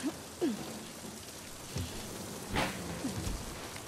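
Steady rain patters across the whole stretch in the video game The Last of Us Part II, a soft, even wash of drops with a few brief tonal game sounds rising over it, and no voices.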